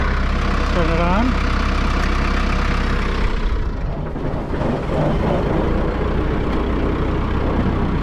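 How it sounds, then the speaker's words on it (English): A tractor idles loudly and steadily up close while the PTO is engaged for hay harvesting, the deep engine drone continuing smoothly with a brief dip midway. "So we're gonna engage the PTO here."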